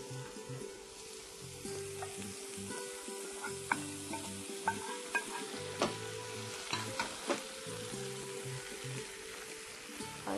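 Vegetables are stir-fried with sauce for American chopsuey, a soft, steady sizzle with scattered clinks and scrapes of a utensil against the pan, heard at close range.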